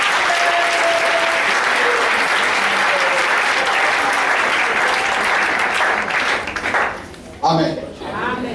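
A church congregation applauds in praise, dense sustained clapping from a large crowd filling the room, with voices mixed in and the applause thinning out near the end.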